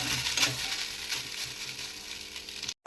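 Spiced food fries in a pan with salt and turmeric, a steady close sizzle with a few stirring scrapes and clinks, nobody talking.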